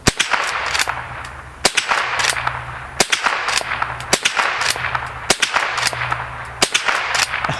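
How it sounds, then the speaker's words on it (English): A Henry .22 LR lever-action rifle fires several sharp, cracking shots outdoors, spaced about a second apart with quieter clicks of the lever between them, loud and close. "So let's send a couple of rounds here."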